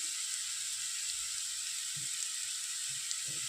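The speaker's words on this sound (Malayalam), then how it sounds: "ഇപ്പോൾ സവോളയൊക്കെ നന്നായിട്ട് വഴന്ന് വരാൻ തുടങ്ങിയിട്ടുണ്ട്." Sliced onions with turmeric and chilli powder sauté in a pan for a Kerala-style bitter gourd and egg thoran, giving a steady soft sizzle and hiss with a few faint stirring bumps. No one speaks.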